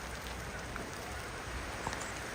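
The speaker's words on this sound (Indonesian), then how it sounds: "Kita kehujanan ini pemirsa." Steady rain falling around Kampung Tonglo during a Rambu Solo ceremony, a dense even hiss with scattered drop taps, continuous and moderately loud, no talking.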